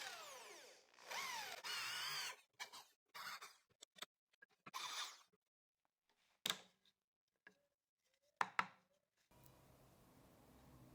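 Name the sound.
drilling wood with a 25 mm drill bit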